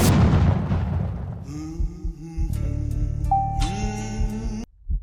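A single sharp gunshot opens a roulette video game round, loud and immediate, followed by decaying ringing game tones and musical chimes that cut off abruptly near the end.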